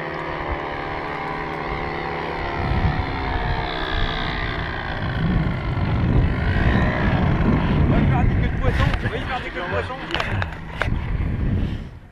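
A paramotor engine in flight eases back as the throttle is reduced, a droning buzz with shifting pitch, while people talk over it and wind noise rumbles around them.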